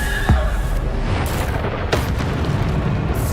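Bombarda spell explosions in the video game Hogwarts Legacy: a few dull booming blasts over a steady rumbling game soundscape, with no voices.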